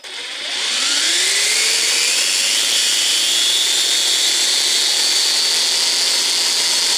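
Brushless motor of a Boom Racing BRX02 RC crawler truck with a Castle Mamba Mini X2 ESC, running in low crawl gear; a steady high whine spins up over the first second, then holds loud and continuous with no talking.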